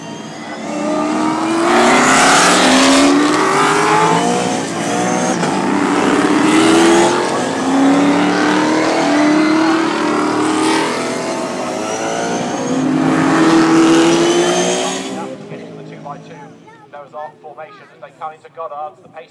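V8 Superstars race cars roar loudly at the Donington race start, engines revving together in a sustained, dense wall of sound for about fifteen seconds before cutting away to quieter noise.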